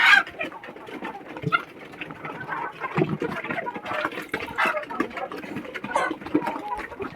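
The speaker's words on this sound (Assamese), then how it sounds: "আৰু মুৰ্গীবিলাকে এতিয়া দানা খাই আছে।" Several local chickens cluck and chatter close by in scattered bursts while eating grain, with bits of rustling and pecking between calls.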